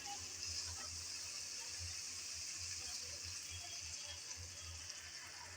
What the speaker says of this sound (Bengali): মশলার বাটিটা ধুয়ে কিছুটা পানি দিলাম।